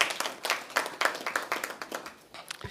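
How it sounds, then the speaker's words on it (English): A small press conference audience gives a round of applause, a sparse, rhythmic patter of individual claps from a few nearby hands that fades out toward the end. "we should give her a round of applause for her efforts"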